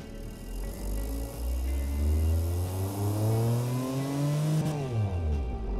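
A simulated car engine on the test stand in the Automation game revs up steadily to a high pitch, then drops sharply back down, loud and close, with no talk.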